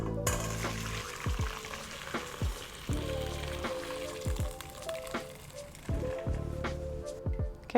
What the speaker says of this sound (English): We're going to strain them and let them cool down a bit